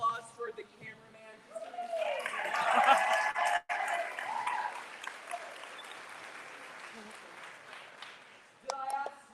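An audience at a political talk event bursts into a round of applause, sustained clapping swelling and fading over several seconds with a brief cheer near the end.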